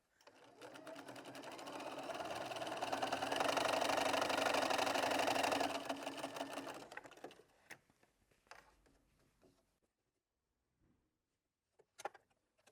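A sewing machine runs steadily, stitching a quarter-inch seam on small scraps of fabric for bunting. Its loud, even whir lasts about seven seconds, then stops, leaving a few faint clicks and handling sounds.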